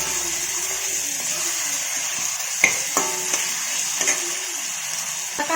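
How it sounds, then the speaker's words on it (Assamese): Ginger and garlic stirred into fish curry frying in a pan, a steady hiss of sizzling oil with a few sharp scrapes and clinks of the spoon partway through, close and fairly loud. "আদা নহৰুখিনি ইয়াতে দি দিম এইখিনিও মিক্স কৰি দিম"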